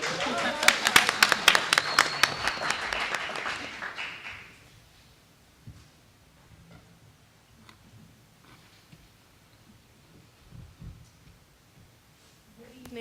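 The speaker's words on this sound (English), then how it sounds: "Give them a round of applause." Short burst of audience clapping at a school district board of education meeting for the student representatives, lively for about four seconds before fading into quiet room noise with faint taps and shuffling.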